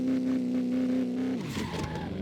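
A race car in a video game street race holds a steady high engine drone, then shifts and accelerates as the pitch drops and climbs again, loud and close.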